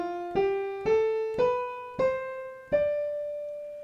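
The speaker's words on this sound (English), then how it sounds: "if you play the Dorian Mode on all white keys" Piano playing the Dorian mode on white keys starting from D, five struck notes in a slow, evenly spaced ascending run, each ringing out and decaying, clear and close with no talking.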